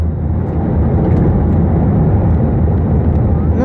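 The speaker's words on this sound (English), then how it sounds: "A320 landing gear sound is a little noisy." Cabin noise aboard an IndiGo Airbus A320 on approach to Mumbai as the landing gear extends: a loud, steady low rumble and roar of airflow that holds throughout with no break.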